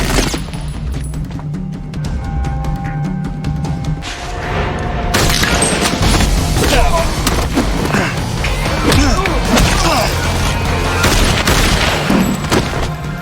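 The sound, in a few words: gunfire from hitmen ambush in action film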